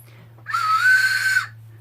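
One breathy, airy whistle blown on a candy whistle for about a second, close by, weak and hissy rather than a clear tone, over a low steady hum.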